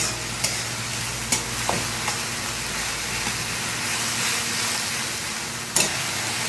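Steady sizzle of frying in a pan as ingredients for katla fish muri ghonto, with green chillies, are stirred, with a few sharp scraping clicks of a spoon against the pan, close and continuous.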